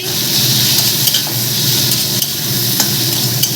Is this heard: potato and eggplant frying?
yes